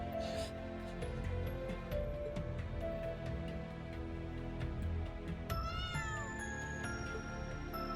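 A cat in the video game Trails of Cold Steel IV lets out a single clear meow partway through, heard over a steady bed of quiet game music.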